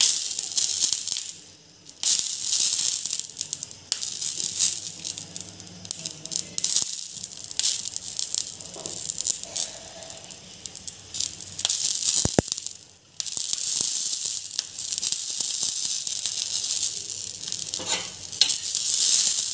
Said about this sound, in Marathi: आता मिरच्या भाजून घेऊ आपण.